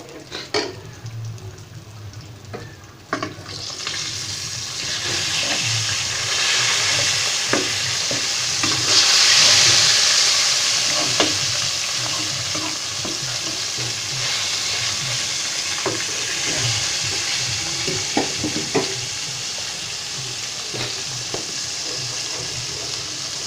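A thickening kurhi is stirred in a pot, with steady scraping and bubbling sizzle throughout and no voices.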